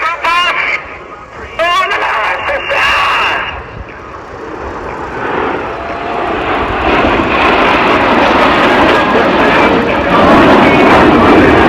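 Aerobatic team aircraft pass overhead at the 2023 AERO Gatineau-Ottawa airshow. The engine roar swells from a distant drone into a loud, sustained rush that keeps building to the end of the clip. Brief voices are audible near the start.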